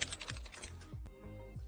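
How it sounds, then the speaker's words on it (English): A coworker types on a computer keyboard nearby in a studio, with steady rapid key clicks and a few heavier strokes, faint and without talk. "your coworker typing in the middle of a video take."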